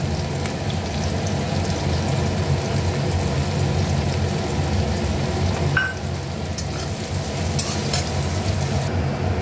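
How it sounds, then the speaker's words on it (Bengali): Sliced onions frying in a kadai of hot oil with black cumin and bay leaf, for a Bengali fish kalia. A loud, continuous sizzle runs throughout with occasional light scrapes of stirring, and no talk. "এবার পেঁয়াজটা ভেজে নেব।"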